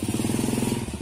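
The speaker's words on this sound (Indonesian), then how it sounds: "kita gas sedikit gitu timbul suara dok-dok, jedok-jedok seperti itu" Yamaha Jupiter Z motorcycle engine knocking as it is revved, a close, loud, rapid even chain of thudding pulses for about a second.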